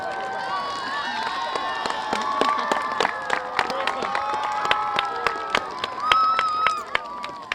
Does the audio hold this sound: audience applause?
yes